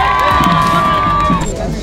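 Crowd of football fans cheering and shouting at a cup final, a loud sustained roar with whoops and a long shrill whistle or horn tone through most of it.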